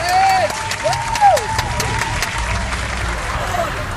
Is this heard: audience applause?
yes